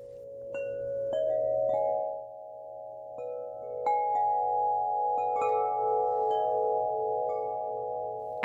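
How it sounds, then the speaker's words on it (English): Ringing from a 50-inch Wind River Eclipse Collection wind chime: deeper, long-sustaining metallic tones struck gently at irregular intervals, blending into a continuous resonant drone, close and unaccompanied. "The 50-inch, which sounds like this."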